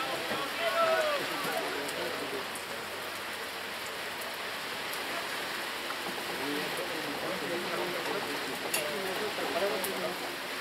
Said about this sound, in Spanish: Impresionante la cantidad de lluvia que cae.